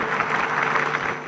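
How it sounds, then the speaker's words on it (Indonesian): Brief burst of applause from members in the Indonesian parliament (DPR) during a speech, a dense, even clatter of many hands lasting about a second. "Tepuk tangan."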